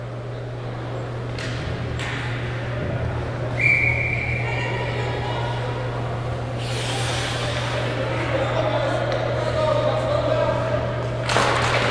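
A referee blows one short, shrill whistle to call Wenatchee offside. It cuts through a constant low arena hum and crowd murmur, with a few thuds and knocks around it.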